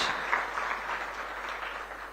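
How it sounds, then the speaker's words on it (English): Brief applause from dinner guests at a fundraiser in Nairobi, a soft, steady wash of clapping that stays fairly quiet and fades slightly toward the end. "Let's appreciate Hosea one more time with a clap."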